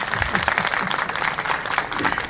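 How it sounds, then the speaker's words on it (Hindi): Audience clapping at a satsang, a dense burst of applause from a gathered crowd, loud and close, with no voices heard over it. "उनके लिए जोरदार ताली तो लगाओ जरा से"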